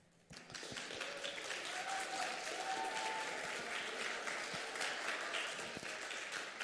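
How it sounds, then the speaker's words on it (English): Audience applause fills a school chapel, starting abruptly and holding as steady, dense clapping from a crowd for the whole stretch with no talk over it. "I think you can give him a bigger round of applause."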